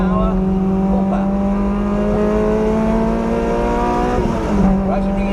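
A race car with a 2ZZ engine at Donington pulls hard at full power, a loud, steady in-car engine drone that climbs in pitch, then dips briefly with a gear change, while an instructor talks over it.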